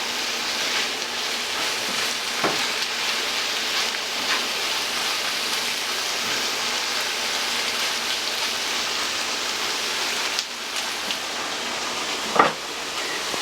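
Beanie weenies sizzle in a hot pan with Lea and Perrins sauce, a steady, dense crackling hiss that holds evenly throughout, with a couple of faint clicks and taps from the pan.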